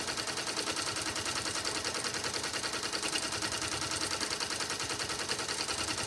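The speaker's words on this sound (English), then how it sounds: "So I'm going to hit start, and as you can see, it's starting up, and it's stitching over what we have already stitched" An embroidery sewing machine runs at a fast, even stitching rhythm, a dense continuous mechanical chatter close up with no speech.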